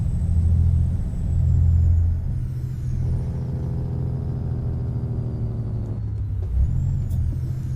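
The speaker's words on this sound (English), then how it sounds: "Hard on those brakes as we coming into town." A Freightliner FLB truck hauling a Trinity Agri flex trailer in American Truck Simulator, with a deep engine rumble, a low drone as the air brakes are applied coming into town, and a short hiss of air near the end.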